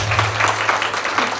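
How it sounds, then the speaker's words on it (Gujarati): An audience at a Guru Purnima celebration in Adelaide claps steadily in a dense, sustained burst of applause, fairly loud and close, with a faint low hum underneath. "ફરીથી તાળીઓ થઈ જાય."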